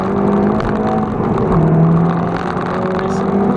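A 2019 Seat Leon Cupra R hot hatch accelerating, a loud steady engine drone rising in pitch from inside the cabin, with someone talking over it throughout.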